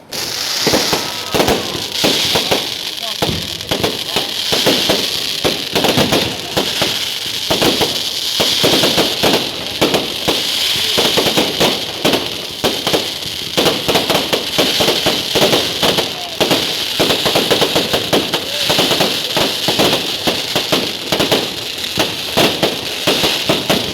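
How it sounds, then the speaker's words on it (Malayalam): Fireworks at a church feast festival in Koratty crackle and bang continuously, a dense, loud barrage of rapid firecracker bursts that goes on throughout, with crowd noise mixed underneath. "അത് കഴിഞ്ഞ് അടിപൊളി വെടിക്കെട്ടായിരുന്നു"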